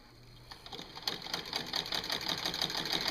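A Singer 15 sewing machine with a walking foot stitches through a quilt, its needle chatter starting slowly and quickening into a fast, steady, close rhythm with no voices.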